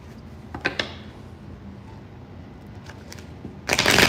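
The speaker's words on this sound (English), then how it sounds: "I'm trying to shuffle your cards" Tarot cards shuffled by hand: a couple of quick crisp riffles early, a quiet stretch, then a louder, dense papery flutter at the end, close up with no talking.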